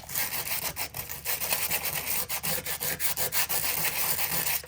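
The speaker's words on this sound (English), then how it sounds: "I'm going to go ahead and grab my sandpaper and gently take some of that off of the top." Sandpaper rubbing acrylic paint off an aluminum can, a close, steady series of rhythmic back-and-forth scratchy strokes with no talking.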